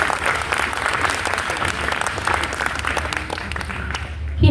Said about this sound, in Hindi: एक बार तालियां बजाइए ना।